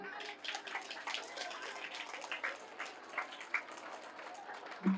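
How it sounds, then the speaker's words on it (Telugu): A group claps for Swami Vivekananda during a meditation class, with soft, scattered hand claps at low volume that are fairly even throughout and mixed with faint voices. "స్వామి వివేకానంద గారికి గట్టిగా చప్పట్లు కొడదాం."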